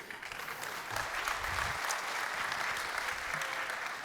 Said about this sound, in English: you got to give a big round of applause for our drummer, Jeff Price